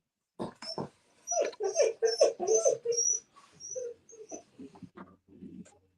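A dog whines and whimpers in a series of high, plaintive cries, close and fairly loud, with short pauses between bursts and a low hum underneath.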